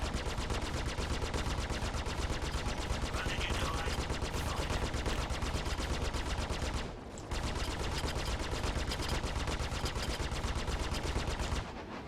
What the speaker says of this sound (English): I was having a hard time shooting at Aurora